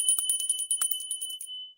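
Small bells ring in a quick, bright run of repeated chimes, sustaining a high metallic tone before fading out near the end.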